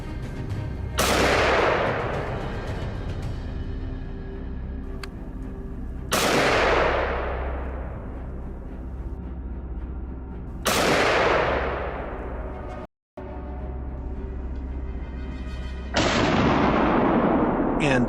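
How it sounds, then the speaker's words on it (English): Gunshots ring out during a wild boar hunt, three sharp loud cracks spaced several seconds apart with long echoing decays, then a fourth blast near the end, all over a steady outdoor rumble. "a single shot from my teammate claimed another life just as cleanly"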